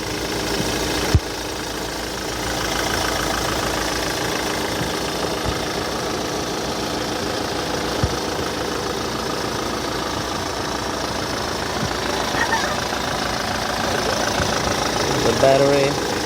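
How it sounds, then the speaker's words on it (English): A 2007 Kia Sorento diesel engine idles with a steady, knocking rumble, loud and close, with a few clanks and a person talking over it. "The engine sounds okay."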